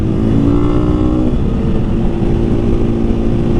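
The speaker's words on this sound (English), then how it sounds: "when I just pulled that second gear wheelie right there" A motorcycle engine revs hard and loud through second gear during a wheelie, a sustained close roar with rising pitch early on, heard alone without voices.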